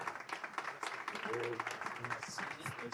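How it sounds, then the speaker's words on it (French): An audience at a business conference applauds the director introducing the morning session; scattered, fairly faint clapping continues beneath a speaker's voice. "On peut applaudir Arthur."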